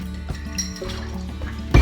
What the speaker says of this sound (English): And then we top this up with soda water.